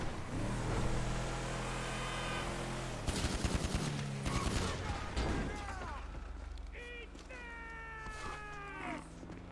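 Gunfire in Grand Theft Auto V: a dense burst of rapid shots crackles through the middle, surrounded by whining, tonal game effects and some voice.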